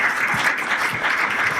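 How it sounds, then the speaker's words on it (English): A conference audience breaks into steady, even applause, a dense wash of clapping that stays loud throughout the short stretch. "Give it a clap."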